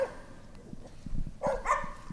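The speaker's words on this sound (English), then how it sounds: "I can't think straight with the dogs barking for some reason tonight" Dogs bark outdoors at a market garden at night, with a few yips and barks rising near the end over low rustling and footsteps, moderately close.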